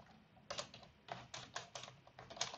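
Keystrokes on a computer keyboard tap in quick irregular bursts, fairly close but soft, with brief pauses between runs of typing and no other sounds.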